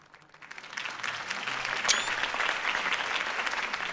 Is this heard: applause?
yes